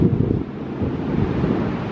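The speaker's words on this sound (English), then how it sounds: "Super windy." Strong gusty wind roars and buffets the microphone continuously at Ocean Beach, San Francisco, with a low rumble suggesting surf in the background.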